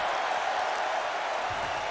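A wrestling video game arena crowd roars and applauds for a capacity audience, a steady dense wash of cheering held at even loudness, fairly distant and without a break.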